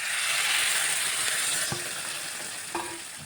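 A pan of potol (pointed gourd) and prawn curry sizzles steadily and loudly as water is poured in, the hiss easing slightly partway through, with a couple of faint utensil taps near the end.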